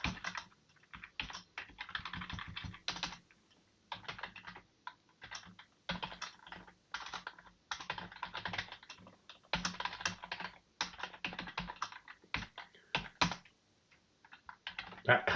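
Brisk typing on a computer keyboard, with bursts of rapid clicking keystrokes broken by short pauses, close and fairly quiet.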